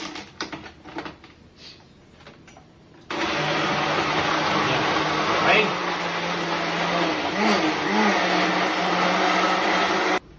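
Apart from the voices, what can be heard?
personal blender pureeing squash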